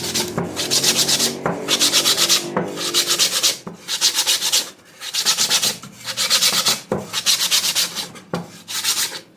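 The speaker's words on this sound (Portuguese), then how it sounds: "Aí você lixa essa borda agora aqui" Rhythmic scraping of sandpaper rubbing against the edge of a wooden basket base, repeated in steady back-and-forth strokes, close and loud with no talking.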